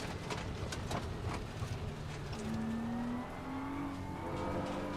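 A BMW on a test drive revs and accelerates, the engine note climbing steadily through a gear change over a constant road and wind roar, close and loud, with no talk.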